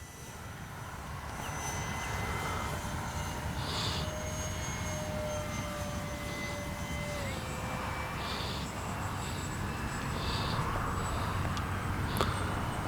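X-Fly Spitfire RC model warbird flying overhead, a steady distant engine drone holding throughout with faint pitch shifts as it passes.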